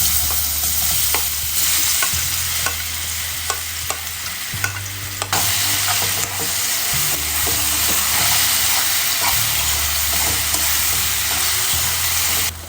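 Sliced banana frying in a spoonful of ghee in a pan, a steady broadband sizzle with repeated scraping stirs and low clunks of the utensil, close and loud throughout.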